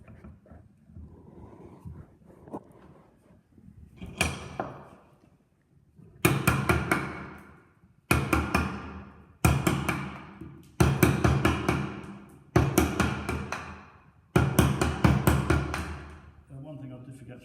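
A mallet strikes a chisel to chip timber away, with about six loud, evenly spaced, ringing blows that follow a quieter stretch of knocks and handling.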